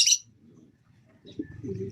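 Soft low pigeon coos murmur close by after a brief bright chirp at the start, growing a little louder toward the end.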